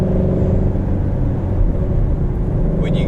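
2018 Shelby GT350 Mustang V8 engine heard from inside the cabin, a steady deep rumbling drone at constant loudness with no clear revving.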